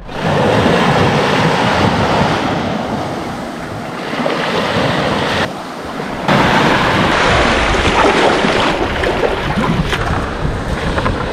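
Sea waves and surf wash steadily along a remote, deserted shore on a small, calm sea, a continuous broad roar with brief dips and gusty wind noise on the microphone, with no voices.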